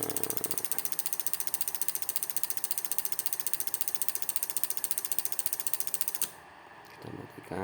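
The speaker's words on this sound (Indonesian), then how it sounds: "ini kita bisa set juga RPM nya dengan kita memutar knob RPM" A rapid, even ratcheting clicking from turning the RPM knob on a hand-made ECU/ECM simulator, close and continuous for about six seconds before stopping abruptly, followed by a brief faint rustle.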